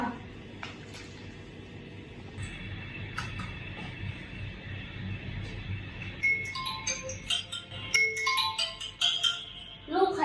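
A mobile phone rings for an incoming call from an unknown number. A quiet background gives way to a fairly faint melodic ringtone whose notes repeat through the second half.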